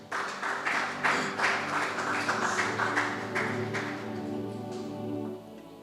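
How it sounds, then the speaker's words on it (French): A church congregation applauds and cheers at a revival worship service, with dense sustained clapping that is loud for most of the stretch and then thins and fades toward the end. "Est-ce que tu peux acclamer pour toi-même?"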